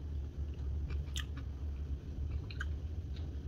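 Crispy air-fried pork belly with crunchy crackling being chewed up close, with a couple of sharp crunchy bites over a steady low background hum and no talking.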